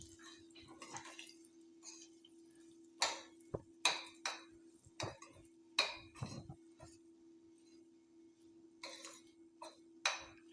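Roasted mustard and coriander seeds being stirred in a pan, with sparse metallic clinks and scrapes from a spoon against the pan, spaced irregularly and faint over a low steady hum.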